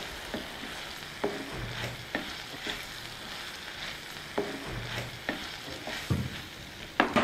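Red cabbage frying in a pan is stirred with a spatula, giving a faint, steady sizzle broken by scraping strokes every second or so.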